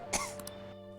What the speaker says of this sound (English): She really needs to take care of her cough.